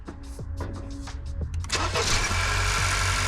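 A 2021-2022 Honda Accord engine is cranked and catches close by, its brief starter whir giving way to a steady idle.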